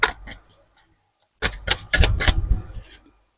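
Tarot cards drawn from a deck and shuffled, a few light taps and flicks, a short pause, then a dense burst of quick crisp clicking riffles, close by and fairly loud.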